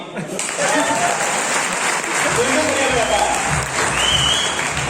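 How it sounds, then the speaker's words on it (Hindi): Applause from an audience for a musician at an outdoor gathering in Jammu and Kashmir, a loud continuous clapping wash lasting several seconds, with voices and some tonal sound over it. "एक म्यूजिक बजाने वाले को 2 तालियां"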